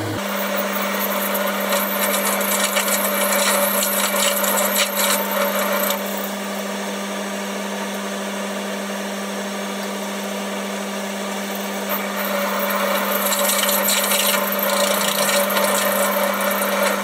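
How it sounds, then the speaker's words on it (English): Drilling a 7mm hole in metal: a loud, steady machine hum with harsher cutting noise at the start and end, close up and uninterrupted, with no voices. "Just drilling a 7mm hole."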